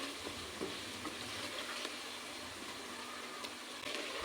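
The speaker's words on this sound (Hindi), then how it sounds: "5 मिनट के लिए हम अपने मसाले को चिकन के साथ अच्छे से फ्राई कर लेंगे।" Chicken frying with spices in a pan makes a continuous, even sizzle that stays faint and steady throughout, with a few soft stirring taps and no voices.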